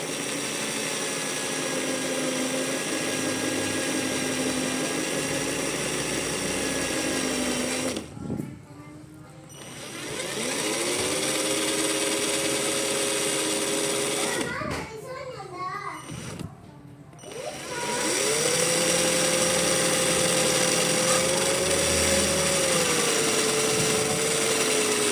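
Power tool polishing a stainless steel watch body, a steady loud whirring hum that runs continuously, briefly cut off twice before spinning back up at a slightly different pitch.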